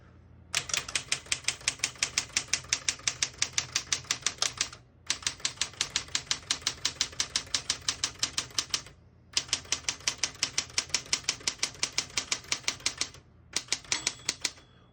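Rapid, even clacking of a 1966 Smith-Corona Classic 12 manual portable typewriter's keys in long bursts, separated by brief pauses, close and crisp with no talking.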